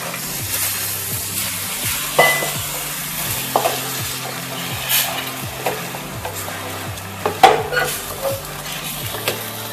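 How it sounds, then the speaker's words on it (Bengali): Water poured into a pan of fried spices and potatoes for a Bengali prawn curry, with steady frying sizzle, repeated stirring scrapes and clinks of a utensil against the pan, close and alone without talk. "এবার আমি দিয়ে দিলাম অল্প সামান্য জল।"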